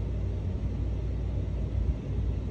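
A 1.6 car engine idling after a throttle body initialization: a low, steady rumble that holds evenly throughout, with no voices.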